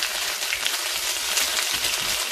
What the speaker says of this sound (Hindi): प्याजों को हमने थोड़ा सा सोते कर लेना है